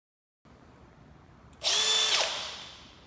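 An electric drill bursts into a loud, high whine after a quiet moment, runs for about half a second, then winds down as its pitch falls.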